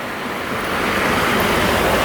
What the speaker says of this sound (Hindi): एंड दिस इज़ काली नदी